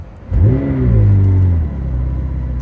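A McLaren 720S in sport mode accelerates hard, its engine note rising sharply in a loud, close surge that climbs and holds before easing off, with no talking.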